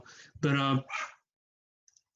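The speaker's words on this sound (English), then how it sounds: "If you hear a dog barking, that's my dog" Gizmo, an older pet dog, gives a short yelping bark, then a second quieter one, close by in a quiet indoor room, followed by silence.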